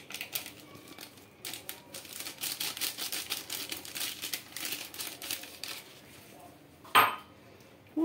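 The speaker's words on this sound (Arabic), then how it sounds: "نخلطو ونضيفو الدقيق شويه بشويه" Biscuit dough being mixed by hand in a bowl while flour is added bit by bit, soft repeated crinkling and scraping strokes followed by a sharp knock near the end.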